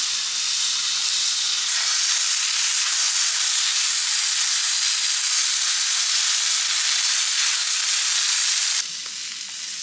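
Steak sears loudly in a cast iron pan over a gas grill, a steady broad sizzle that runs nearly unbroken before dipping slightly near the end, with no talking.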